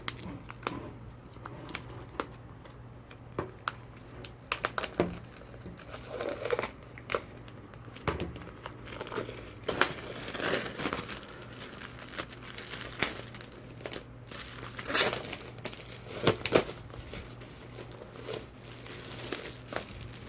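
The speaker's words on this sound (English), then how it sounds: "let's get this wrapper off here" Plastic shrink wrap crinkles and tears as it is peeled off a Prince box set, the Welcome 2 America deluxe edition, in a run of close, sharp crackles and rips over about twenty seconds, with no talking.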